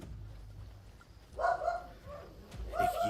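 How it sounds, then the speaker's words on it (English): A small dog named Pepper gives a few short, sharp barks and yips, moderately close, separated by a pause, over quiet game background sound. "My dog Pepper's doing a little barking."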